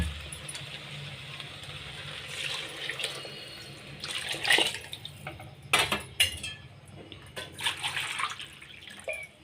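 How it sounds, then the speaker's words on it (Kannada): Two bowls of water poured into a pot of rice that has just been fried for capsicum potato bath, splashing and gurgling in uneven bursts with a faint clink of metal utensils. "2 ಬೌಲ್ ನೀರು ಹಾಕೋಣ."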